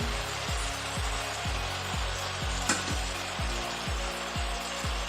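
Baby corn and capsicum frying in a pan for masala pasta, a steady sizzle under a regular rhythm of stirring scrapes, about a dozen evenly spaced strokes, with one sharper clack near the middle.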